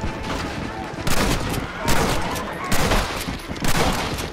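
Gunfire in the Red Dead Redemption video game: a rapid fusillade of shots in bursts, loud and close, with overlapping volleys and game sounds throughout.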